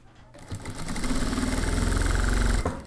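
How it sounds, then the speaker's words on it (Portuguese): A sewing machine runs a wide topstitch on a boiled wool coat, its motor revving up quickly into a steady, close, fast-pulsing whir that holds for about two seconds and then stops abruptly. "Aqui eu já vou fazer um pesponto larguinho, um pé de sapatilha da margem para o lado direito da peça."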